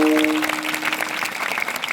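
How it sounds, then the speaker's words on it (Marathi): Clapping crowd at a Marathi kirtan gathering in Wategaon, dense and steady applause filling the space for about two seconds, with a held tone fading early on. "आर्मीतल्या जवानांसाठी त्या जोरदार टाळ्या वाजवा सगळ्यांनी"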